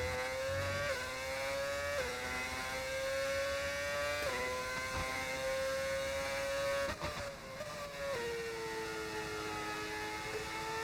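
A Brawn F1 car engine in a racing game at the Brazil circuit whines at high revs, holding a steady tone that dips at each gear shift, loud and continuous with no talk over it.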